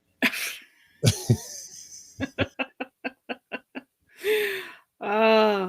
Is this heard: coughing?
yes